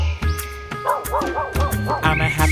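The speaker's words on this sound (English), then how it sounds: "D for dog." A dog barks and yips repeatedly in a quick, bouncy rhythm over a cheerful backing melody, several short woofs in a row, close and clear.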